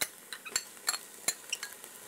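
Peppers being stirred into translucent onions in a pan over gentle heat: a run of sharp utensil scrapes and clinks against the pan, about eight distinct strokes, close and fairly loud over a faint sizzle.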